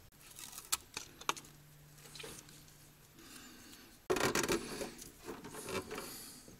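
Thick rubbery flashing tape being cut and pressed into place while building busbars for a DIY Chevy Volt battery powerwall: scattered close crinkles, snips and taps, then a louder stretch of sticky tearing and rustling handling.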